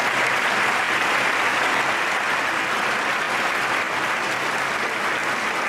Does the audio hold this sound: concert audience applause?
yes